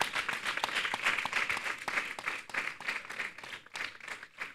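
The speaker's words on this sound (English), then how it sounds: "I think we should give him a round of applause." Applause at a Nigerian Conservation Foundation annual general meeting, a steady patter of hand claps from a moderate crowd, fairly even in loudness and heard alone without speech.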